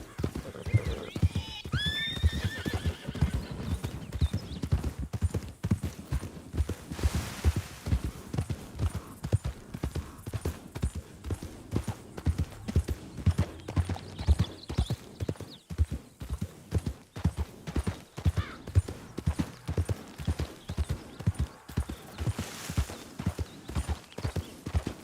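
Horse hooves clip-clopping in Red Dead Redemption 2, a steady rhythmic trot of close, distinct hoofbeats running throughout, with a whinny near the start and occasional brief speech in the background.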